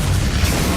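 A Bombarda spell explosion in Hogwarts Legacy, a loud, dense burst of rumbling blast noise filling the short moment without pause.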